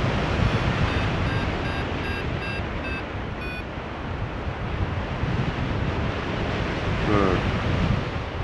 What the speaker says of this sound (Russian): ветер прямо с долины.